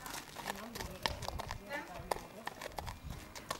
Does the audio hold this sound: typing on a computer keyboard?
no